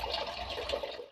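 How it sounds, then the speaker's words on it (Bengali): Water running steadily into a cooking pot on a lit gas stove, ready for boiling taro leaves, a soft continuous pouring splash that stops abruptly at the end. "কচুর শাকটা সিদ্ধ করবো, তার জন্য জল দিয়ে দিচ্ছি।"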